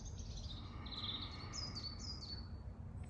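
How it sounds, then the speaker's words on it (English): Birds chirping outdoors, several high, bright tweets and short whistled calls repeating over a low, steady ambient rumble, fairly faint and with no talk. "when your mind gets distracted with the noises of the birds"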